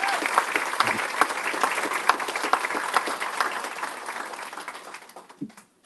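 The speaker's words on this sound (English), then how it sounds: "Let's applaud her achievements." A school board meeting audience applauds a student's achievement, with crisp individual claps clearly audible in the crowd's steady clapping before it thins out and fades away near the end.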